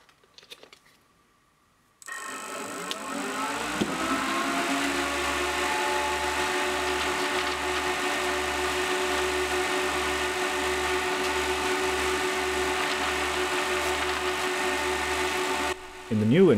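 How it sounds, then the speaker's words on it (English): Two 12-volt fans wired in series and run from the 230-volt grid on a cheap stick welder setup, producing a steady whirring hum with a low pulsing drone that holds evenly for most of the clip after switching on. "I'm able to power the two 12-volt fans in series directly from the"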